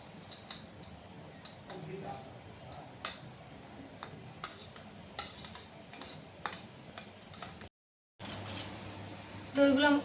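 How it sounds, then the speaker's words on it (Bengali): Yogurt whisked with chaat masala, black salt, plain salt, roasted spice powder and sugar for dahi vada, giving soft scraping and clicking strokes against a bowl, mid-level and fairly continuous with a short gap near the end. "এবার আমি দইটাকে ভালো করে ফেটিয়ে নেব।"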